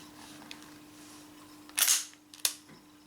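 An Umarex S&W M29 BB revolver fires two sharp, snappy shots about half a second apart over a faint steady hum, with no one speaking.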